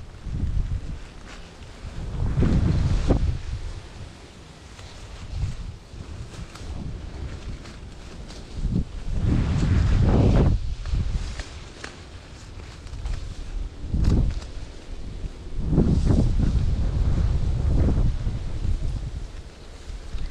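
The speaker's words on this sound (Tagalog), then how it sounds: "Grabe lakas pa ng hangin." Strong wind buffets the microphone in heavy, rumbling gusts that swell and fade, with quieter stretches between them.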